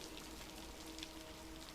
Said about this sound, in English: There was nothing now, nothing but the rain.